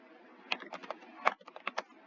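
Someone types a search on a computer keyboard, about a dozen quick, light key clicks close by in two short bursts, with no talking.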